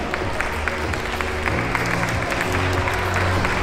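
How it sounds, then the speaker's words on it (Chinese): Applause from an audience at an ADHD awareness week opening ceremony in Hong Kong, a steady patter of many hands clapping that swells slightly midway, with murmuring voices underneath. "掌声有请。"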